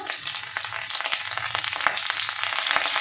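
Finely chopped ginger frying in oil in a pan for egg tadka, a steady close sizzle with crackling pops and occasional spatula stirs underneath.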